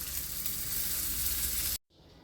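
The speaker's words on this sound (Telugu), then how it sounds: "చక్కగా వెంటనే మనం స్టవ్ ఆఫ్ చేసేసుకొని ఈ పోపుని ఈ పచ్చడిలోకి వేసేసుకోండి" Hot tempering is poured into crushed cucumber roti chutney, Andhra village style, and gives a loud, close, continuous sizzle that stops abruptly near the end, leaving faint background hiss.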